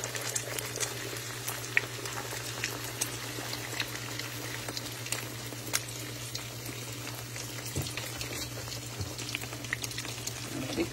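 Shrimp egg foo young mixture cooks in a hot pan with a steady, quiet sizzle and bubbling, scattered with small pops and a constant low hum in the background.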